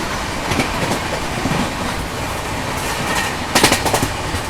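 The Garib Rath Express rolling on rails between Muzaffarpur and Anand Vihar, a continuous rumble with rhythmic clickety-clack wheel beats and sharper bursts as carriages pass over joints, heard from onboard.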